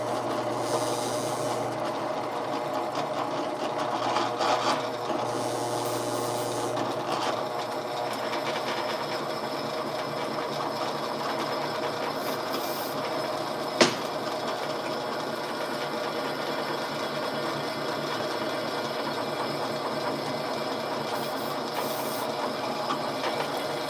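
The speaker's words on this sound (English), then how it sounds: "All right, so now we're gonna sit here and we're gonna drill baby drill." Drill boring steadily through two stacked 5/8-inch-thick A50 steel plates, a continuous whirring mechanical drone at moderate level with brief changes in tone and a single sharp click midway.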